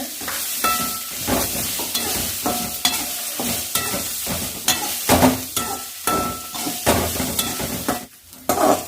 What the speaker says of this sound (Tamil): இது கூட தேங்காயும் போட்டு நல்லா வணக்கிறேங்க.